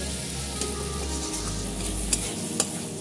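Chicken and potato pieces stir-fried in a pan for chicken ghugni, giving a steady sizzle with spatula scrapes and a couple of sharper clinks against the pan, close and clear.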